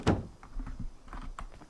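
A door opening in the video game Rust, heard as a faint thunk at the start followed by soft, quiet mechanical shuffling and clicks.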